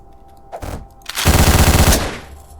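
Gunfire from the top-down game Hotline Miami: a brief shot, then a loud rapid automatic burst lasting about a second, close and punchy.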